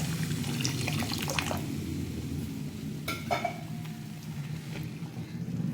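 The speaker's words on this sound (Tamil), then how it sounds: "1 கப் ரவைக்கு 2 கப் அளவுக்கு நான் பால் சேர்த்துக்கிறேன்" Hot boiled milk pours into roasted semolina in a pan, making a continuous liquid splashing with a few clinks from the pot.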